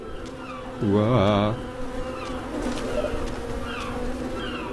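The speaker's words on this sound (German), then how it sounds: "Da sind wieder Wespen." Wasps buzz in the video game Submerged, a close, steady insect drone with a short vocal exclamation over it early on.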